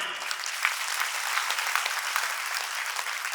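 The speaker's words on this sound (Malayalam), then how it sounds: "അതിൽ അഭിമാനിക്കാൻ ആഗ്രഹമുള്ളവരൊന്ന് കയ്യടിക്കാൻ ഞാൻ പറയാ" A large crowd applauds at a church missionary gathering, with steady, dense clapping at even loudness throughout and no voices over it.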